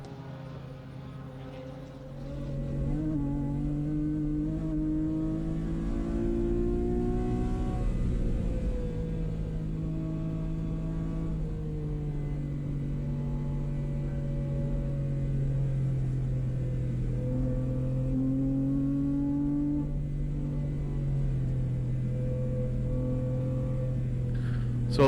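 Race car on a time attack hot lap at New Jersey Motorsports Park, a sustained engine drone rising and falling in pitch as it accelerates and shifts, heard steadily at moderate distance.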